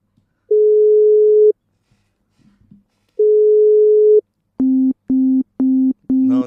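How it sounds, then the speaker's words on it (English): Telephone line tones play through a handset: two long steady tones separated by silence, then a rapid run of short, evenly spaced busy-signal beeps, loud and clean with no talk over them. "Line busy."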